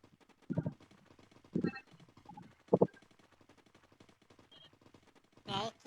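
Scattered bursts of gunfire in the video game Free Fire Max, short rapid volleys at irregular intervals over a quiet background, with a final louder burst near the end.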